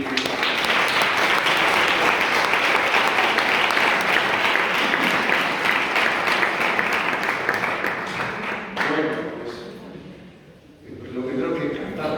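Sustained audience applause at a Spanish-language youth gathering with Monsignor Munilla, dense and steady for about nine seconds, then thinning and dipping before a brief swell at the end.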